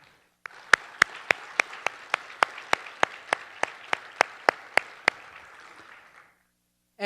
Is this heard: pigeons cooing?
no